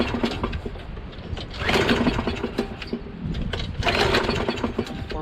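A Craftsman 22 lawn mower with its choke on cranks and sputters as it tries to start, in two rough bursts of pull-start rattle and engine chatter, fairly close and alone.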